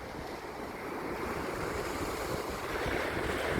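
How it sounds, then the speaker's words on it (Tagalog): Steady roaring surf, strong waves washing continuously onto a white-sand resort beach at Pozorobo, Santa Ana, Cagayan, loud and close with wind blowing across the microphone. "Ay, lakas ng alon guys dito sa ating resort."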